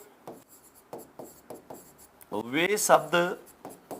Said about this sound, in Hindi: तो यौगिक शब्द कौन से होते हैं, मैं यहां लिख रहा हूं पहले